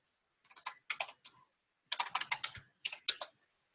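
Bursts of computer keyboard typing, close and fairly quiet, in two quick clusters of key clicks separated by a short pause, with no talking.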